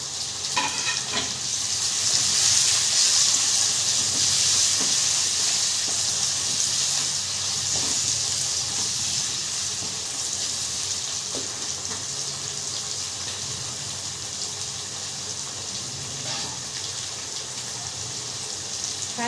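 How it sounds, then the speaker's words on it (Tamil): Tomatoes sautéing in a pan while cooking a fish tamarind curry, giving a steady, loud sizzle and hiss with faint stirring and scraping clicks, heard alone without talk. "தக்காளி இந்த அளவுக்கு வதங்க பிறகு தான்"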